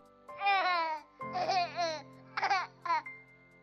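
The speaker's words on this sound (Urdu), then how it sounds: "یہ ہے میرے آنکھ کے تارے کی کھیلتے ہوئے آواز" An infant babbles in a few separate vocal bursts, squealing and cooing playfully up close, with brief gaps between phrases.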